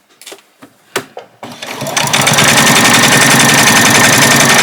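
A sewing machine stitching along the edge of an apron, starting with a few separate clicks and thumps, then rising into a loud, steady, close whirring hum of continuous stitching with no talk.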